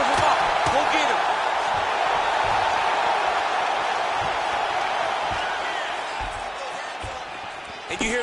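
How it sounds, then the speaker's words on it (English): A dense, roaring arena crowd from the UFC 4 video game swells steadily at a fight, a loud continuous wash with faint whoops that eases slightly toward the end. "you hear the crowd react every time they come together"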